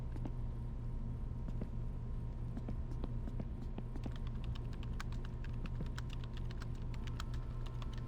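A character in My Winter Car types on a computer keyboard, a fast, continuous run of close, crisp key clicks over a low steady rumble, with no talk.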